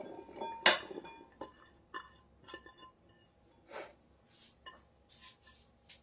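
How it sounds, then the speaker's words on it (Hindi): Amla gooseberries dropping into a bowl in a home kitchen: a scattered series of light clinks and knocks against the dish, one sharper hit early on, the rest softer, set against a quiet room. "अब यहाँ आंवले को मैं एक बाउल में डाल लेती हूँ।"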